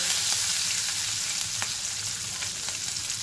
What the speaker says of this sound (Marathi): कढीपत्ता आणि उभ्या चिरलेल्या 4 मिरच्या. थोडंसं आपण परतून घेऊया.